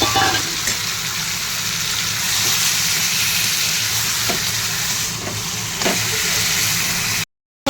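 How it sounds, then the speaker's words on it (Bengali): Marinated chicken sizzles and fries loudly on a high flame, a steady hiss with a few stirring scrapes, before a brief cut to silence near the end. "এবার এর মধ্যে এখানে ম্যারিনেট করা চিকেনটা ঢেলে দিলাম।"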